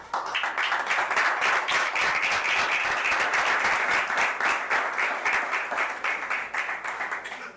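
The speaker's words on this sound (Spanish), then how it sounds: "Y brindémosles un aplauso a Cristo." Sustained applause from a church congregation, dense and steady clapping filling the whole stretch at full strength before tapering slightly at the end, with no talk over it.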